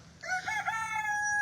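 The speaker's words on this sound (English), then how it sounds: "And then we've got all the chickens. All my lovely chickens." A rooster crows close by in a backyard chicken flock, one long rising and sustained cock-a-doodle-doo call that rings clearly, with no talking.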